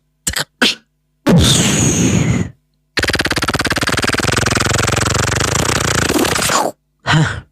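A beatboxer's mouth imitates a gun: a few short clicks, then a rapid rattling machine-gun burst lasting several seconds, loud and close, ending with a brief puff.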